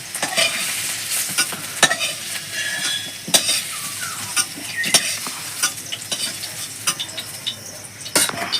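Homemade soya chunks (bori) frying in oil in a pan, with a steady sizzle broken by sharp scrapes and clinks of a spatula stirring against the metal.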